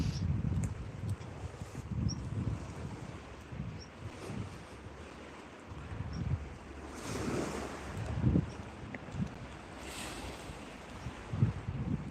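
Sea waves wash and roll onto the shore in uneven surges, mixed with gusts of wind buffeting the microphone outdoors.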